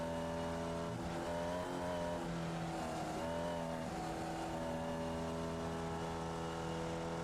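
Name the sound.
Formula Vee race car engine, onboard, throttle feathered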